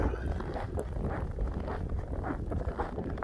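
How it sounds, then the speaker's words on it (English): Wind from a blizzard at about minus 32 buffets steadily on a walk outdoors, a dense low rumbling roar that never lets up. "it's getting windy and the snow is blowing and it's snowing"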